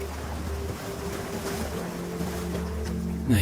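Gentle water lapping at Dalkey Harbour, a steady soft wash with wind over the microphone and a low rumble throughout, ending in a brief louder thump.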